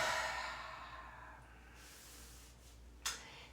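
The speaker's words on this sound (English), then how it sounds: "Take a nice inhale through your nose and exhale out your mouth." A slow, audible exhale out through the mouth during a calming breathing exercise, a soft breathy rush that fades gradually over a few seconds, close and quiet, ending with a faint short breath.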